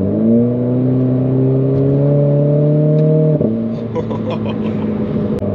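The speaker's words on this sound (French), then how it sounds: "Oh j'adore le petit P là quand tu passes la vitesse." Renault Clio 4 RS Trophy with a freer exhaust line, recorded from the cabin: a loud engine note climbing steadily under acceleration, then a sharp drop at the upshift followed by light crackling pops from the exhaust.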